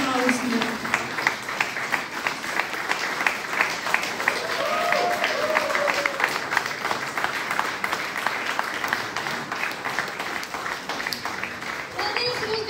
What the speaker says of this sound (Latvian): Protams, milzīgi aplausi pašiem jums.